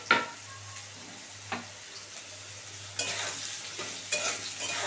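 Sliced ridge gourd tipped into a pan of frying potatoes and stirred, with a soft continuous sizzle and a few sharp scrapes and clatters of the spatula against the pan.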